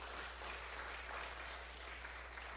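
Faint, distant applause from a church congregation at a revival meeting, an even patter of many hands steady for a few seconds over a low electrical hum.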